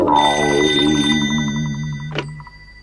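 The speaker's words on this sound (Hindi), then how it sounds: "अब मैं उसे फोन कर पूछता हूँ।" A telephone bell rings in a cartoon scene, a steady electronic trill with repeating pulses that holds for about two seconds, then a short chime and a click as it stops.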